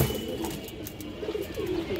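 Several high-flyer pigeons coo continuously in low, throbbing calls against a dense, steady background hum, with no voices.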